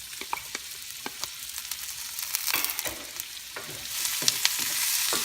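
Tomatoes and onions cook in a pan, a soft sizzle broken by repeated clicks and scrapes of stirring that grow a little louder toward the end.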